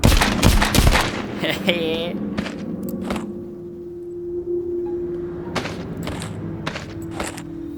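Gunfire in The Walking Dead Saints & Sinners VR, several sharp shots cracking early and more bursts scattered later, mixed with footsteps, clatter and a voice talking over the action.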